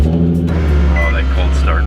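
Loud, deep exhaust rumble of an Infiniti G35 sedan on a cold start, fitted with an Ark Grip catback exhaust and ISR long tube headers, droning steadily and cutting off abruptly near the end while a voice talks over it.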